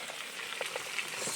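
Fresh perch, caught three hours earlier, sizzle in a hot pan over the fire, a soft, steady crackle of frying oil with small pops, heard alone and fairly quiet.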